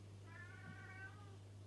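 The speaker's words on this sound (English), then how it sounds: "my cat wanting to come in. You might hear him in the background." A house cat meows faintly from a distance, wanting to be let in, giving one drawn-out cry over a low steady indoor hum.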